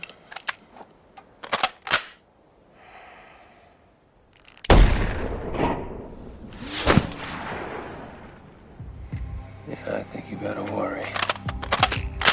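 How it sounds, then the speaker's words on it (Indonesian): Sharp sniper rifle shots in an action film, fired from about a mile away during long-range training, ring out as a few loud isolated cracks amid quieter stretches, with a voice speaking between them. "Sebelum pergi, ia mencoba melatih skillnya dengan menembak dari jarak 1 mil."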